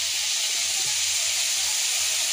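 Capsicum frying in a pan, roughly half cooked and still being fried, gives a steady, even sizzling hiss that continues without a break and stays fairly loud. No one speaks.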